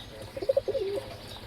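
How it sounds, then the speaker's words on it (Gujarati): Pigeon chicks give a brief, soft burst of cooing, a few quick rounded notes followed by a short trailing coo, faint against quiet background hiss. "કબૂતરના બચ્ચા"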